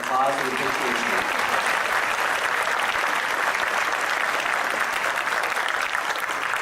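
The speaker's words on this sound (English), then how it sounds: "Let's give them a hand of applause and appreciation." Sustained applause fills a hall as an alumni spring reunion banquet audience claps steadily for several seconds, a dense, even wash of many hands at moderate distance with no break.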